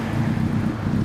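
A 1982 Kawasaki Z1000R2 motorcycle with a Kerker exhaust, Lawson replica, idles with a steady, low rumbling engine note throughout the brief moment, with no talking.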